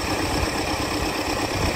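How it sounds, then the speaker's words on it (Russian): An MTZ-1025 tractor with a turbocharged D-240 engine runs at a steady idle, giving a loud, continuous close-up rumble with an even vibrating drone and no voices. "Вот такой трактор."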